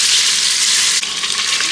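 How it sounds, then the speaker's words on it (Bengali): Paneer cubes frying in hot ghee and oil, a loud, steady sizzle and crackle that continues throughout, close to the pan and with no voices. "পনিরটা এখন ভাজা হচ্ছে"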